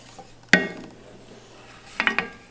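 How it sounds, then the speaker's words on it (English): Pasta with salt and pepper stirred in a pan, a sharp metallic clank of utensil on pan followed by a quick cluster of clinks against a quiet background. "Now I'm gonna stir this up a little bit."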